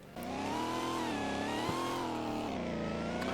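A Dodge Charger SRT Hellcat sedan with a 717-horsepower engine accelerates hard, its loud, steady engine roar rising and falling slightly in pitch through a gear change, recorded from inside the car.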